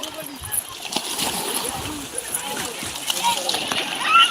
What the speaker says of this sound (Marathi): पाण्याचा खळखळाट आपल्याला बघायला मिळत आहे